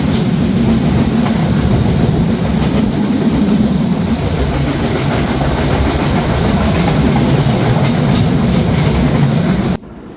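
The Silkcity Express runs through rain with a loud, steady rumble and rattle of carriages on rails and a constant wash of noise that cuts off abruptly at the end.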